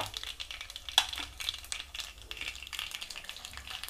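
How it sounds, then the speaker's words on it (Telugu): Chana dal and urad dal fry in oil as tempering for tomato pachadi, giving a faint, close crackle and sizzle with small popping bursts throughout. "ఇవి కొంచెం ఫ్రై కావాలండి"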